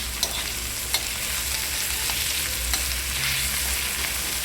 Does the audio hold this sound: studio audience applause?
no